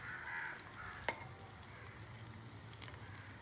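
Spices such as red chilli and turmeric go into vermicelli frying in a pan, bringing a steady faint sizzle with one sharp clink of the spoon partway through, close and quiet with no talking.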